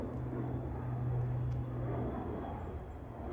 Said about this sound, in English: That's a C-130, I think.